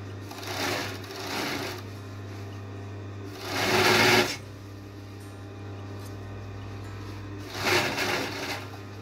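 A sewing machine stitches a party dress in a bridal atelier, running in three loud bursts separated by quieter pauses over a steady low hum.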